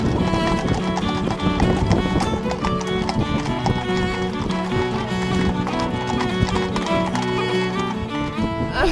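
Many horses mill about outside a pub before a hunt with a large crowd on foot, their hooves clip-clopping continuously and densely on hard ground, with an occasional whinny amid steady outdoor bustle.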